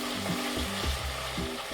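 Food fries in palm oil in a pan, with a close, continuous crackling sizzle and some tonal scraping and stirring underneath, alone with no voices.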